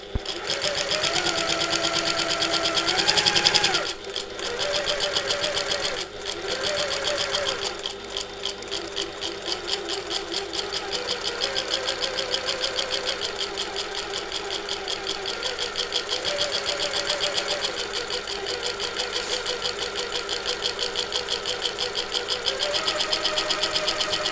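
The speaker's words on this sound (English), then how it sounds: "Now I'm using my walking foot." A sewing machine fitted with a walking foot stitches through thick, bulky fabric layers, running in a fast, steady mechanical chatter that briefly pauses and restarts, close and loud with no talking.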